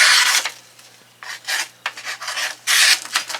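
A knife blade rasps across the abrasive of a Work Sharp Precision Adjust sharpener in repeated close, bright grinding strokes, separated by brief pauses.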